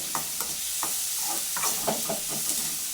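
Onions sauté in a pan, a close, constant sizzle broken by several quick stirring scrapes over about three seconds, with no talking.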